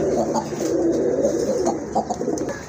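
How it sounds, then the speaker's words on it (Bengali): A pet pigeon calls loudly in a seller's coop, a continuous close throaty cooing that fills the whole stretch with slight pulsing swells. "অনেক জোরে ডাকে কবুতরটা"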